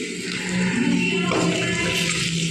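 A little water poured into spiced curry masala cooking with black pepper and Kashmiri chili powder for a shahi matar, cauliflower and paneer dish, giving a steady, loud rushing splash and sizzle for a couple of seconds with no talk.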